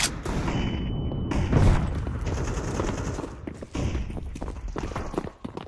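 Counter-Strike 2 match audio: loud, close bursts of automatic gunfire with sharp impacts, mixed with in-game footsteps and movement, continuous over a few seconds without speech.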